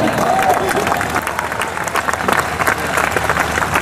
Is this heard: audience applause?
yes